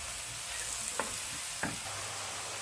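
Mushrooms sizzle steadily as they fry over very high heat for a chicken blanquette, a continuous hiss broken by two sharp utensil taps against the pan, with no voices.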